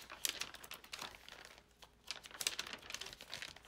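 Paper pages of a Midori MD notebook crinkling and rustling up close, soft and quiet with uneven bursts of crisp crackle across a few seconds.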